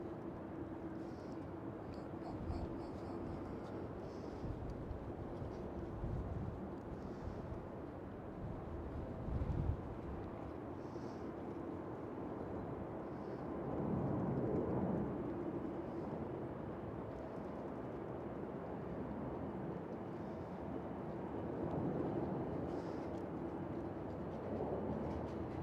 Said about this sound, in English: Cathay Pacific A350 1000 taking off from runway 36 center.